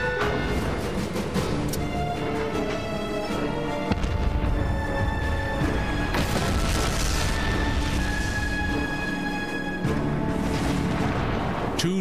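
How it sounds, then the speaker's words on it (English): Depth charges exploding underwater near a diving Japanese submarine, I-52, a continuous heavy roar of rumbling booms with several louder surges, dense and sustained throughout. "Depth charges exploded just forward of the conning tower as I-52 was diving."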